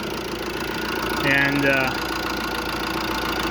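A 1.3 JTD diesel car engine idles steadily close by with a low, even rumble throughout, while a person speaks briefly over it partway through.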